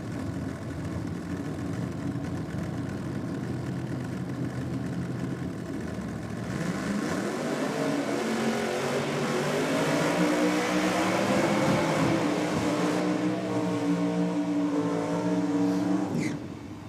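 A supercharged V8 drag racing car with an old-school blower fires up at a nitro drag meet. After a steady background rumble, the engine catches and settles into a loud, close, throbbing idle with rising harmonic tone.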